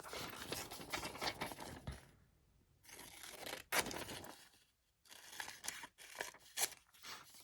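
Scissors cut a framed picture out of a glossy magazine page in a quiet room, with close, crisp snipping and tearing bursts broken by short silent pauses.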